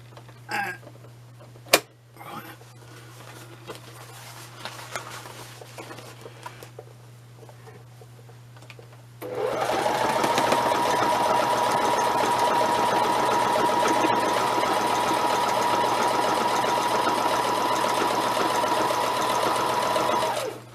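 A sewing machine runs steadily for about eleven seconds, stitching a long parallel line in a pack build; the sustained mechanical whirr starts abruptly after quieter handling noises.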